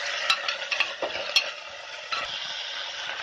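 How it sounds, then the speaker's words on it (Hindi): Washed potatoes fry in hot oil in a pan while a spoon stirs them, giving a steady sizzle broken by several sharp scrapes and clinks against the pan. "आलूओं को तलेंगे"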